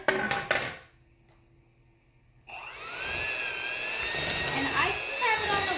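An electric kitchen mixer on its lowest speed blends flour and other dry ingredients, a steady, fairly loud whirring drone that starts abruptly after a short quiet pause and runs on continuously.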